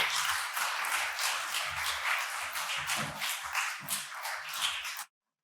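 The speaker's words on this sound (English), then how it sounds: "Give them a clap while they come up on stage." An audience claps for panellists walking onstage at a heritage restoration talk about a former convent laundry, giving steady, dense applause for about five seconds before it stops abruptly.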